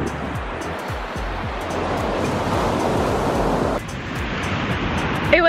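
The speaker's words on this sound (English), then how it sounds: "the waves are coming in, and this is Flamenco Beach" Ocean waves at Flamenco Beach on Culebra, Puerto Rico roll in as a continuous loud wash of surf, with a breaking wave building and receding, and some wind buffeting the microphone.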